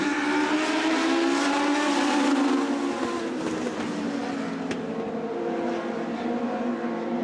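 A pack of Nelcar race cars runs tightly bunched around the turns and backstretch of Wiscasset Speedway, several engines blending into a loud, sustained roar whose pitch shifts as they pass.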